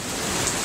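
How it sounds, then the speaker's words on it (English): Heavy rain falls in strong wind during a thunderstorm, a dense, steady roar of downpour that is loud and close and stays constant throughout a short stretch, with no talk. "Look at that rain."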